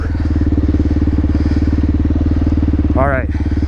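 A Kawasaki Z400 motorcycle engine runs with a steady, loud pulsing throb close by on a trail ride, and a brief voice cuts in near the end.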